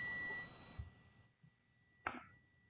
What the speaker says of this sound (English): It is beeping, and also there's a reading on the meter telling us that this normal open contact is also in good condition.